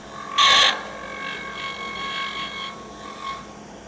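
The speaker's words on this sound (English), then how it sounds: "you can even use your gouge as a shear scraper" A woodturning gouge used as a shear scraper on spinning wood gives a short loud rasping burst, followed by lighter, intermittent scraping strokes with a faint ringing tone from the lathe.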